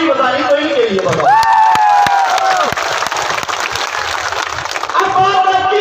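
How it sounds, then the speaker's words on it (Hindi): Crowd at a mahapanchayat rally breaks into loud applause and cheering after a speaker's call, dense clapping swelling and holding strong, with a voice and tonal sounds over it at the start. "एक बार जोरदार ताली बजानी तो इनके लिए बाबा"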